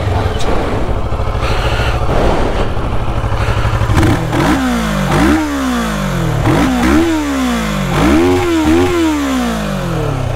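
A Kawasaki ER6n 650 motorcycle engine cranks and catches, settles into a rough idle, then revs up and drops back in a series of sharp blips, loud and close.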